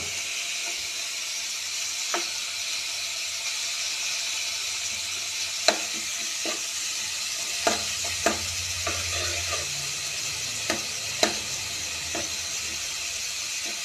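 Beaten eggs fry in a pan while being stirred: a continuous close sizzle with scattered sharp scrapes and clicks from the utensil against the pan.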